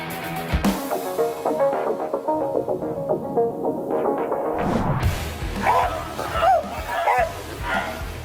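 A Bully Kutta dog barking at a threat, a series of close, rhythmic barks and yips with a voice speaking over part of it.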